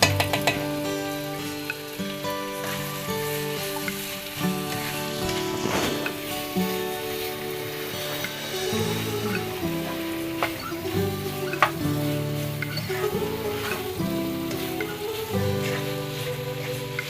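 Beef pepper fry sizzling in a pan with ghee, a continuous close crackle with irregular stirring and scraping throughout, no voices.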